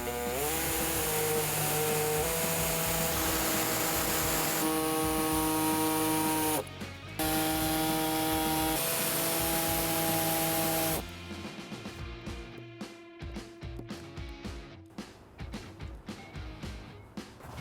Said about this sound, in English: we're going to go ahead and use an air saw to make this cut